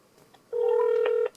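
One steady electronic phone tone sounds for under a second, clear and close, with near silence before and after.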